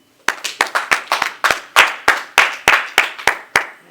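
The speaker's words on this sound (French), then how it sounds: "Applaudissons le Seigneur pour cela." A dozen or so sharp hand claps in a steady rhythm, fairly close and loud, from a church congregation clapping together with no talking.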